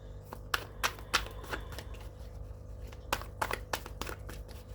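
Tarot cards riffle and slap in a run of crisp close shuffles, bursts of papery flicking with short pauses between them.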